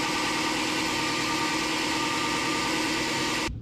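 Wire wheel on a power tool grinding a metal caliper to round and deburr it, a steady loud whirring buzz with dense rasping texture that cuts off abruptly at the end.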